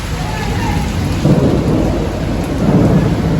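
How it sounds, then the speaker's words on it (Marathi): Heavy monsoon rain pours steadily in Malvan while low rolling thunder rumbles underneath, loud and continuous, with swells of rumbling in the second half. "केवढ पाऊस लागता तो बघा तो धोधून ओधून तो पडता"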